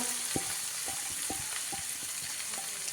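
Flat beans and egg fry in a pan with a steady, close sizzle, while a spoon stirs through them in a few sharp scraping strokes.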